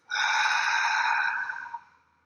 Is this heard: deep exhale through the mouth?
yes